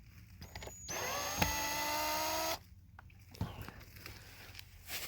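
A power drill loosens screws from the winter posts on a cottage veranda, one steady whining run of about two seconds with bright harmonic tones, close by and loud, followed by quieter handling clatter.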